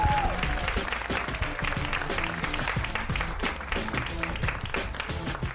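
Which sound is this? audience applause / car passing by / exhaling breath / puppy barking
audience applause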